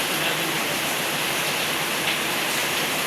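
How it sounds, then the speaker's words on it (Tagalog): Heavy rain pouring down steadily outdoors, a dense, loud, even hiss with no breaks across the short stretch. "may ulan na"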